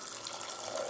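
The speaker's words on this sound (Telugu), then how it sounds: "తగినన్ని వాటర్ పోసుకోవాలి." Water pours steadily into a cooking pot holding lentils and tomatoes, a soft continuous splashing hiss that stays even and quiet throughout, with no talking.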